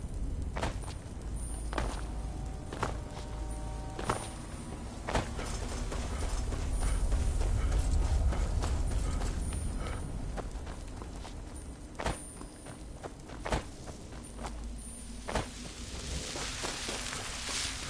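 Horse hooves clip-clop in a steady, unhurried rhythm on a hard surface in the video game Skyrim, with a low rumble swelling midway; no voices.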